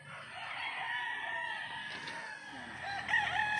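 A Sweater gamefowl rooster crows at a game farm, one near, drawn-out cock-a-doodle-doo, with a fainter cluck or call toward the end.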